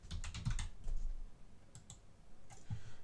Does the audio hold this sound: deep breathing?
no